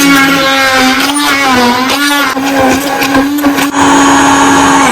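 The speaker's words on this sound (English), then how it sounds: "We'll go ahead with the help of our hand blender." A hand blender whirs loudly and close, its motor pitch wobbling as it churns through onions, with brief dips while the load shifts.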